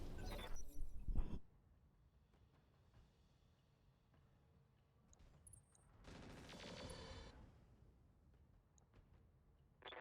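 Mech weapons fire in the BattleTech RogueTech video game: a loud burst of shattering, gunfire-like impacts, a quiet gap, then a second crackling volley of metallic blasts.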